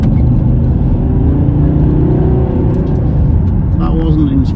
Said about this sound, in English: Extremely torquey engine, sounds lovely